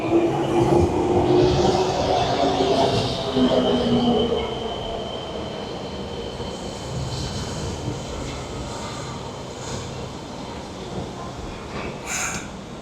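A Fukuoka subway train on the Hakozaki line rumbles steadily, loud at first and then settling into a lower, continuous roar with faint high squeals of rails and brakes.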